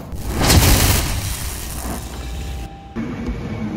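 A high-speed rail train at Taichung station, a loud rushing roar that swells and then fades, followed by a lower steady rumble with a faint mechanical whine, heard up close on the platform.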